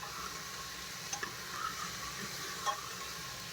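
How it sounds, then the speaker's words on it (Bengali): Chunks of taro and potato fry in a pan, giving a soft, steady sizzle with a few faint clicks and stirring taps. No one speaks. "এখন একটু টাইম লাগে, একটু ভেজে নেবো ভালো করে।"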